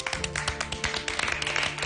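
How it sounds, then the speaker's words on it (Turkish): Studio audience on a Turkish hairdresser competition show claps steadily, a dense, continuous patter of many hands over music lasting the full stretch without letup. "Tekrar büyük bir alkış alalım mı?"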